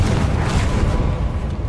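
Bombarda and Confringo spell blasts in Hogwarts Legacy: loud, close booming explosions with deep rumbling impacts, packed densely together amid ongoing combat noise.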